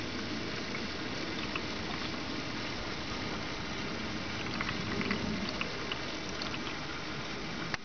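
Air bubbles gurgle steadily out of a Toyota Prius inverter coolant system as it is bled, a close, continuous bubbling and patter of liquid with faint engine hum beneath.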